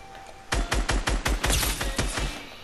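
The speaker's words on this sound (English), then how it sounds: "I'm getting shot at from somewhere else." Gunfire in a video game: a rapid burst of about eight loud, close shots in quick succession, ending abruptly.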